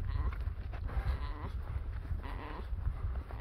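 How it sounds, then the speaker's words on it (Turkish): A heavy lamb being carried on a person's back up a mountainside gives several bleats mixed with close breathing and rustling footsteps, fairly faint against outdoor wind. "Şu anda kuzuyu sırtladım arkadaşlar."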